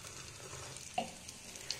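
A semolina sandwich frying in a little oil, a faint, soft, steady sizzle with a couple of small clicks, brief and quiet, no talking.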